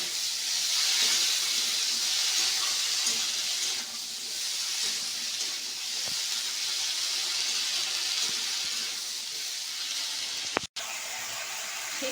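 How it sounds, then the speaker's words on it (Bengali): Flat beans fry in a pan for a chickpea-free mustard-paste shim chorchori, giving a steady, loud hiss and sizzle throughout with a brief clatter near the end. "শিমটা ভাজা ভাজা হচ্ছে,"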